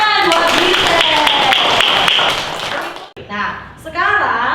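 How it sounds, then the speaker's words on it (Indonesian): A classroom of pupils claps for a classmate, giving a dense, close round of applause for about two seconds before it fades, with voices talking over it and continuing afterward. "tepuk tangan buat Giselle"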